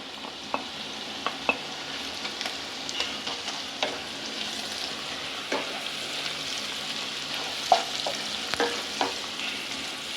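Chicken pieces roasting dry in a pan for a Chalakudy-style chicken curry, with a steady close sizzle broken by sharp spatula scrapes and stirring clicks throughout.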